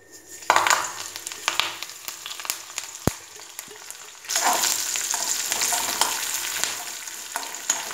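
Chillies hit hot oil in a kadai for a sandwich dhokla tempering. A quieter crackle with stirring scrapes jumps about halfway through to a loud, dense, close sizzle, with no one speaking.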